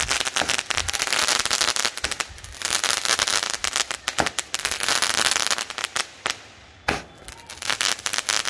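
Diwali sky shot firecrackers bursting one after another in quick succession, a dense, loud barrage of sharp cracks and crackling with brief gaps near the end.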